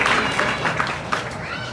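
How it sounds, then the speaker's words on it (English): Brief burst of audience applause at the Camp Snoopy grand reopening ceremony at Knott's Berry Farm in Buena Park, a crowd clapping steadily for under two seconds with scattered louder claps. "go ahead, you can give yourself a round of applause"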